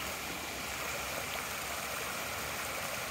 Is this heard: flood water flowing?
yes